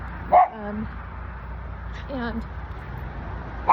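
A few sharp dog barks and yips, spaced apart, with a brief whimpering whine, over a quiet indoor background with soft talking.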